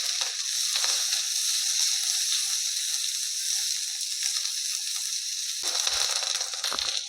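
Bell pepper sautés in hot oil in a pan on the gas stove, giving off a steady, close sizzle that keeps on with little change and no talking, with a few scraping stirs near the end.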